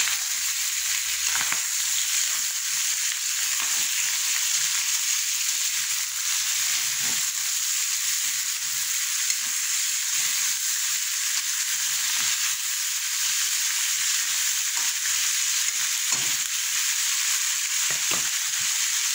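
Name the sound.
sautéing ingredients for kare-kare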